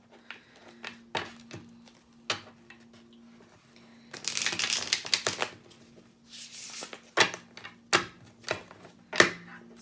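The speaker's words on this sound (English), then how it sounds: "All right, quick shuffle for Saggies." Tarot cards are shuffled close up in sharp, irregular riffles and slaps, with two longer bursts of riffling in the middle and no talking.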